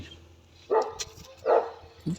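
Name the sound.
dog barking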